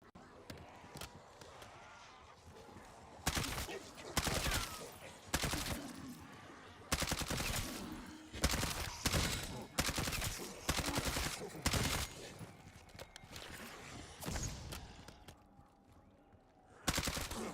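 Rapid gunfire in a shooter video game comes in bursts of loud, punchy shots, some tightly clustered and others spaced, with impact hits mixed in and a quieter stretch at the start.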